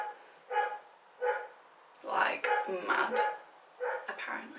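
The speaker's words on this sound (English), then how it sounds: "I'm sorry if you can hear my dog barking." A pet dog barks in bursts somewhere in a home, several separate yaps spread through the moment with short gaps, moderately close, alongside a person speaking.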